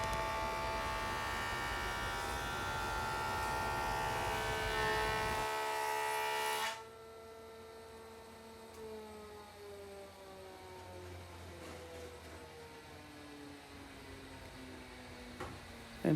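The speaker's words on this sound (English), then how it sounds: "all I'm doing is running a 7-inch board across a 6-inch joiner." A 6-inch jointer milling a 7-inch-wide board, a loud steady broadband machine roar for about seven seconds that cuts off sharply, leaving a quieter fading motor whine as the cutterhead spins down.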